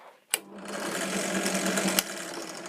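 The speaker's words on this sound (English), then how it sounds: "put into the chuck of your drill" A power drill with a shaft in its chuck starts abruptly and keeps whirring at a steady high pitch, a continuous close motor whine with no voices.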